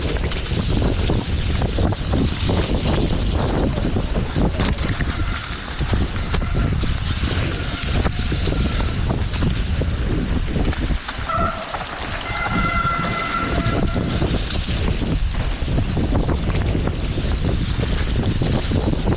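Mountain bike ride on a wet, rain-soaked trail at Bukit Kiara, with steady broadband wash of rain, water spray and tyre noise running loud and continuous throughout, no clear talk.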